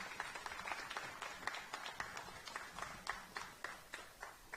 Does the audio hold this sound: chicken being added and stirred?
no